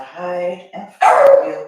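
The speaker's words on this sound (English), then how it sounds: "I'm sorry, that's my dog" A pet dog named Berlin barks loudly and close by in a home yoga session, a few sharp barks and a whine heard alongside a calm instructor's voice.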